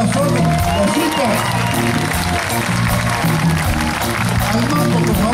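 Audience applause rises at a performance by a Latin dance orchestra, the clapping blended with loud band music and talk running through it.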